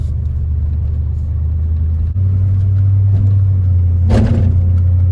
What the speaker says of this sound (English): I'm test driving the truck.